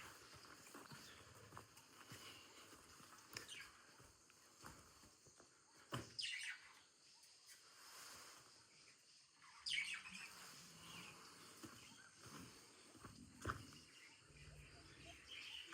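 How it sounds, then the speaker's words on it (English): Scattered bird chirps and calls ring out over a quiet outdoor ambience, with brief rustles and a few clip-clop–like knocks in between. "We can hear a lot of bird sounds."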